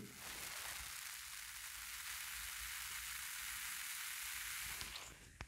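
Steady, dense fizzing hiss of fake antifreeze foaming, continuous and fairly close, ending with a faint knock.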